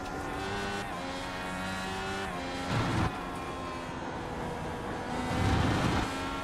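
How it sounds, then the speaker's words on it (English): An IndyCar race car in a racing video game roars through the corkscrew with a steady high engine whine, with two brief thumping bursts as the car bottoms out. "you can hear the car bottom out."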